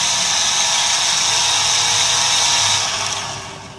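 The motors of a Visuo Siluroid drone spin up into a loud, steady high-pitched whine that holds evenly, then fades away over the last second.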